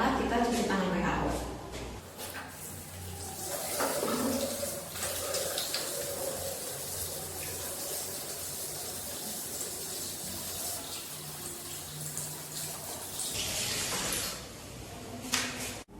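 Tap water runs steadily into a sink during a WHO hand-washing routine before an ENT foreign-body removal procedure, with splashing and rubbing sounds that continue at a near, even level for most of the clip.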